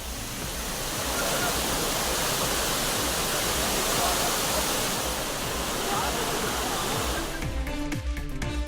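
Kaviaruvi falls pours down as a steady, dense roar of falling water that fills the whole stretch before easing off at the very end.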